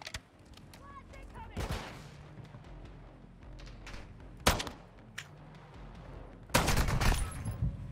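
Shotgun blasts in a video game, several loud sharp booms spaced irregularly with a dense burst of fire near the end, over a busy background of game noise.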